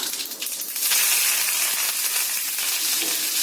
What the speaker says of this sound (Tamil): கடுகு பொரிய ஆரம்பிச்சிருச்சு கருவேப்பிலை சேர்த்துக்கலாம்